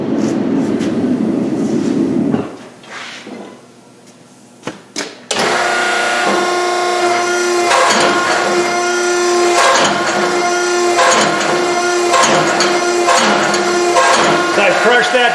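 A forging press squeezes hot steel between its dies down to a half-inch square, starting quietly and then breaking into a loud, steady mechanical drone with rhythmic clanks and knocks.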